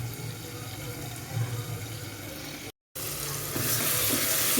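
Onions sauté in a pan with a steady hiss and crackle. After a brief total dropout, the sizzle returns brighter and louder.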